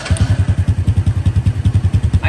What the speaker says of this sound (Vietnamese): nổ máy lên đi